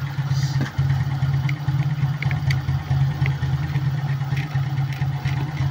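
Motorcycle engine idling with its battery removed, a steady low throb with light mechanical clatter and a brief dip near the start, heard close and fairly quiet with no one speaking.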